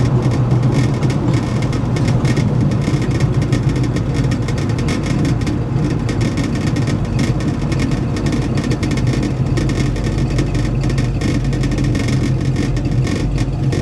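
A 1966 Chevrolet Chevelle cruises off the throttle on a long test drive, its steady engine drone and road rumble continuous and close throughout, with no talking.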